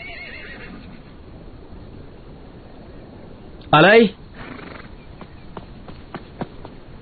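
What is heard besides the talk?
horse neighing and hooves clip-clopping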